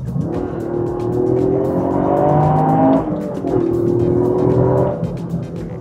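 A Toyota Yaris GR driving fast, its engine loud and close as it revs and climbs steadily, briefly drops near the middle, then pulls hard again for about six seconds.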